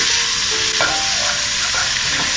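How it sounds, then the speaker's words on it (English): Bacon rendering its fat in a pot sizzles loudly and steadily, a dense hiss with a few scraping strokes as it is stirred. "let's give this bacon a stir. So it's been rendering the fat."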